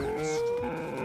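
A person's voice imitates a cow, producing one short, drawn-out mooing call that is close and fairly loud, with no other talk.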